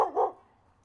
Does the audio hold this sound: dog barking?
yes